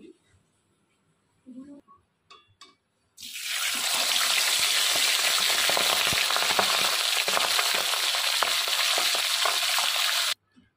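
A few soft kitchen clunks, then a sudden loud, steady sizzle as pomfret fish drop into hot mustard oil, holding for several seconds before cutting off.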